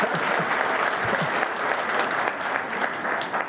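An audience at a five-star hotel launch event in Arusha claps loudly and steadily, a dense sustained round of applause filling the whole moment.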